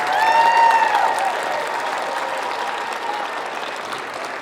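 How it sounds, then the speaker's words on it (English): A crowd at a robotics competition (FTC) applauds the competing teams, a loud, dense and continuous roar of clapping with a brief whistle at the start, steady and full before easing slightly. "let's please give a nice round of applause for all of the teams that competed here today"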